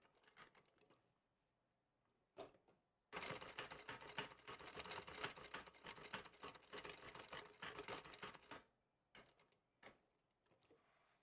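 A sewing machine runs close by, first in a short burst and then in a sustained rapid stitching run through fabric lasting several seconds, with brief stops and quieter starts before and after.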